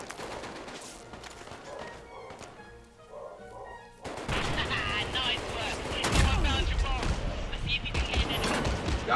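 Gunfire in the VR game Medal of Honor: Above & Beyond on Oculus Quest 2, quieter shots at first, then a loud, sustained barrage of rapid overlapping shots, with voices shouting over it.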